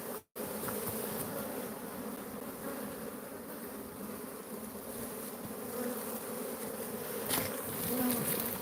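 Honeybees buzzing around open beehives during an inspection, a dense steady hum of many wings close by, continuing without pause and rising slightly toward the end.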